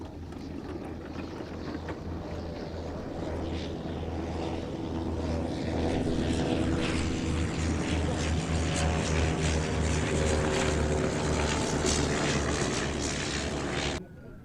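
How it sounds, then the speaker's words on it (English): First World War aircraft, a Bristol M1C and a Sopwith Pup, flying a display in gusty conditions: a steady, loud propeller-engine drone with wind buffeting, swelling slightly as the planes pass and holding until the end. "an outstanding exhibition of those 3 First World War aircraft by Jean-Michel Munn in the Bristol M1C, Scott Butler in the Sopwith Pup"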